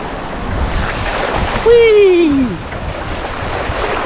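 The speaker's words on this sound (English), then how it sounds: "let's cycle through the river ford." A bicycle rolls through a river ford in old mining country, sending up a continuous rushing splash of water mixed with wind buffeting. A person lets out a drawn-out, rising-and-falling vocal exclamation midway through.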